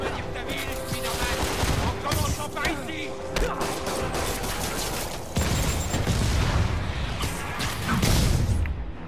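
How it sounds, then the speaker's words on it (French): Rocket-propelled grenade fire and bursts of gunfire in a Spider-Man video game, loud crackling volleys and crashing impacts running nearly continuously with a dense, busy mix of game effects. "ça tire au RPG"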